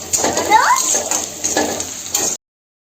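Browned onion frying with ginger-garlic paste for a mutton curry, a close sizzle with spoon stirring and pan clatter over about two seconds before it cuts off abruptly.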